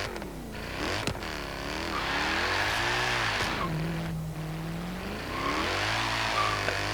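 Alfa Romeo 8C in the racing game Forza Horizon 3, engine revving up and down through gear changes with rising and falling pitch sweeps and some tire squeal, loud and continuous.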